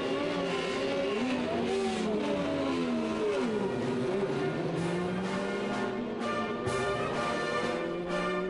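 Race cars roar around the Silverstone circuit during a Super Trofeo Europe race, engines droning and shifting in a steady, loud wash of overlapping revs with no break.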